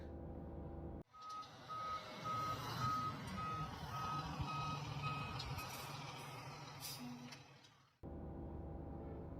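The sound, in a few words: cement mixing truck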